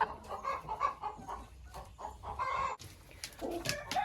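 Young laying hens in a coop run cluck in repeated short bursts with overlapping calls, close and fairly loud, and a brief pause comes before the clucking resumes.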